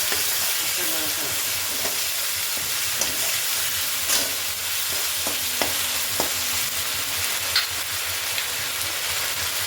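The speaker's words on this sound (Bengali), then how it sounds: "এবার সেই মশলাটাকে আমরা এর মধ্যে দিয়ে দেবো।" Ground spice paste of cardamom and ginger hisses and sizzles in a hot pan, a continuous loud fry with occasional stirring clicks and no speech.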